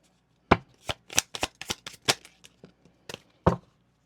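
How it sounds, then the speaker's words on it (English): Oracle cards riffled and snapped in a fast series of crisp, close slaps, about a dozen sharp bursts with brief gaps between them, then a final loud snap after a short pause. "Let me get one of these cards."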